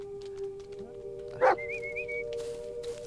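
A dog in the horror video game Blair Witch gives a single short bark amid quiet ambient game sound, with a faint whine or tone lingering afterward; no talk.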